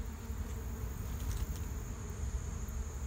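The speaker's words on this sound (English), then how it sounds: "I'm literally in the middle of a swarm of bees" A dense, steady buzzing of many bees surrounds the listener, a continuous low drone with faint higher whines drifting past.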